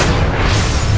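A gunshot goes off in the survival horror game The Evil Within. It comes as a loud, dense boom whose rumble fills the whole second without a break.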